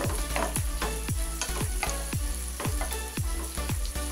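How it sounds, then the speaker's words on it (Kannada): Medium-cut pieces of a large capsicum fry in a pan, a close, loud sizzle broken by regular stirring scrapes about twice a second, with no voices. "ಇವಾಗ ಅದನ್ನು ಕೂಡ ಸೇರಿಸ್ಕೊತೀನಿ, ಫ್ರೈ ಮಾಡೋಣ."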